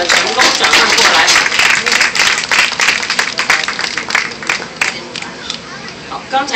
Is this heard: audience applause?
yes